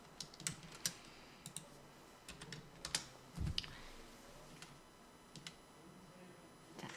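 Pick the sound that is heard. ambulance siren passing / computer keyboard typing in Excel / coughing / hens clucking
computer keyboard typing in Excel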